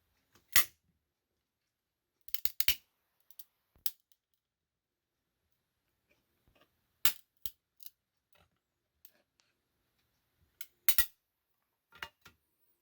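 A plastic PSA graded card slab holding a Clemens card is pried and peeled open, giving sharp isolated cracks and snaps in scattered bursts with quiet gaps, close and fairly loud.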